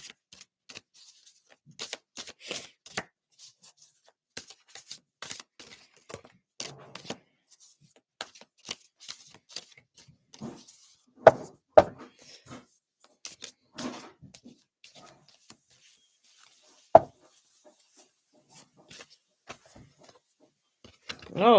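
Tarot cards being shuffled in a quiet room: repeated soft riffles and taps spread across the stretch, with a few sharper knocks and faint talk here and there.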